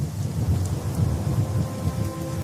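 Thunderstorm sound effect over a stormy hill: dense, steady rain with low rolling thunder rumbling underneath, close and continuous throughout.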